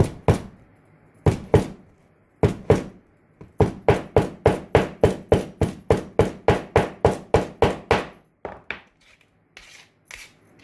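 Hammer pounding packed clay tight around an object in sand casting for setting faceted sapphires: three spaced strikes, then a steady run of about fifteen rapid sharp blows, ending in softer scattered taps, close and loud with no talk.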